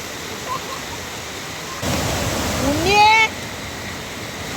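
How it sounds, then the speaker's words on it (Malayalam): Floodwater gushing through a submerged area of Narikkund in Kerala: a steady, broad rushing roar that starts partway in and holds loud, with a voice briefly rising over it. "അവിടെ കുത്തി ഒഴുകണതാണ് ഞാൻ കാണുന്നത്"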